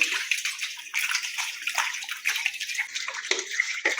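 Small chidda fish being rinsed by hand in a basin of water: continuous splashing and sloshing with brief surges, fairly close and steady for the whole stretch, no voices.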